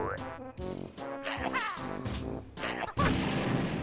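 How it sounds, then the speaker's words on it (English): Explosion egg going off in the N64 game Banjo-Tooie, a burst of blast-like game sound effects with bright noisy crashes, mixed among jingly music and effects, loud and close throughout. "Oh, explosion egg, okay."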